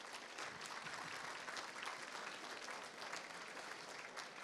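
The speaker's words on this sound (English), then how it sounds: "One more round of applause for those guys." Steady round of applause from an audience at the WOBA 2018 business awards ceremony, dense continuous clapping that holds at an even level throughout with no talk over it.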